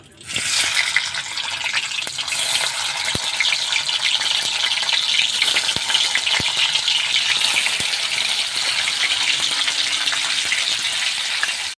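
Paneer pieces frying in hot oil, a loud continuous crackling sizzle that swells as more pieces drop into the pan, with a few utensil knocks and no speech.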